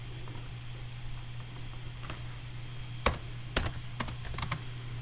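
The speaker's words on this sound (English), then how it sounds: "I type really loud." Keys clack on a computer keyboard, a few sharp loud strokes over a faint steady hum, irregular in rhythm.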